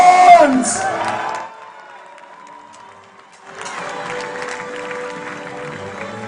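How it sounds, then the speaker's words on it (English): An indoor crowd at a 2018 international 5-vs-5 medieval combat tournament cheers and whoops loudly for Team Ukraine and Team Finland, then fades to a quieter murmur before rising again into a sustained, noisy roar. "Let's have a big cheer for Team Ukraine and Team Finland!"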